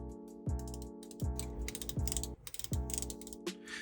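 Spool tension knob on a KastKing Valiant Eagle 2 Pro fishing reel turned in several short bursts of close, crisp mechanical clicking, with brief pauses between each turn.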